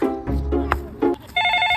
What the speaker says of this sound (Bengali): ফোন ধর ভাই ফোন ধর